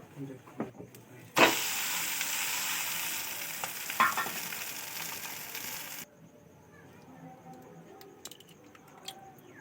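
Eggs frying in oil in a pan give a loud, steady sizzle that bursts in suddenly, crackles on for several seconds, then cuts off, leaving quieter kitchen clatter and faint background sound.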